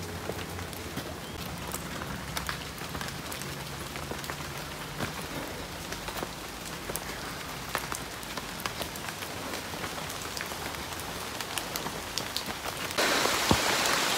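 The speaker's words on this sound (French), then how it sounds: "Ouais, il pleut là." Steady rain falls through forest on a hike up Piton des Neiges on Réunion, a dense continuous patter of drops on leaves and ground that grows heavier near the end.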